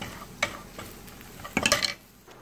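Garlic and coriander stirred quickly in a hot pan, with a few soft scrapes and clinks of a utensil against the pan, a brighter burst of sizzling stirring near the end, fairly close and quiet.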